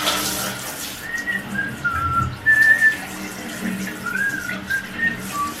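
A woman whistles a vlog music tune in a bathroom, short melodic phrases rising and falling, fairly close, over running water from a shower or tap.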